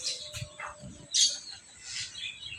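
Birds around a rural home garden with pomelo and coconut trees give brief, scattered chirps and tweets in the morning, fairly faint and close by, with no talking.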